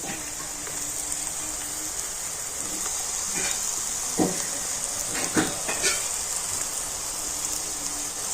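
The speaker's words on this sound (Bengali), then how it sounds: "আর এবার আমি এই ব্যাটারটা তো এইভাবে তেলের উপর দিয়ে দেব" Lentil batter dropped into hot oil, frying with a continuous bright sizzle and a few sharper spitting crackles midway, close and steady with no talk.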